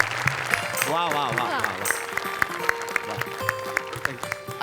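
Ongoing audience clapping from a Marathi comedy stage show carries throughout, with a performer's voice calling out over the applause near the start.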